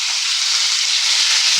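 Garlic, tomato and a piece of ginger fry in a pan for a Bengali bottle gourd and paneer kofta curry, giving a steady, loud, close sizzling hiss that holds evenly throughout with no talking.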